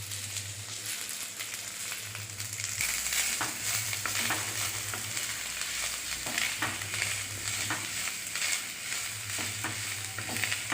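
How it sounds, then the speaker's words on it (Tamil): Vallarai greens sautéing in a pan with grated coconut for chutney, giving a steady, fairly loud sizzle broken by repeated stirring scrapes and clinks throughout, with no talking. "கீரையும் போட்டு வதக்கிக்கலாம்."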